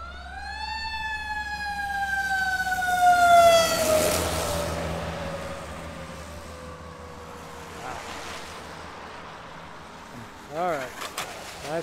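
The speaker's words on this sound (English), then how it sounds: "I got another ambulance, or a fire truck." A wailing emergency siren rises and slowly falls in pitch, loud at first then fading into the distance, with a brief yelping burst near the end.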